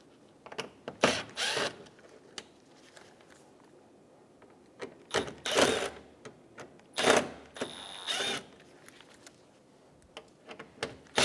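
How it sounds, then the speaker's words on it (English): Screws being removed from the front bumper trim of a 2012–2020 Chevrolet Sonic with a Phillips head bit: bursts of close mechanical ratcheting and whirring separated by quiet pauses, with no talking. "Using a Phillips head bit, remove all of the screws on the front."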